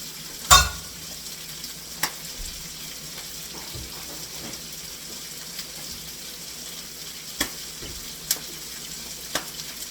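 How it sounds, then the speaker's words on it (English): Pork frying in garlic sauce in a pan gives a steady low sizzle throughout, broken by a few sharp clicks and knocks of a spatula against the pan, with no voices. "Whoa! See what I'm talking about?"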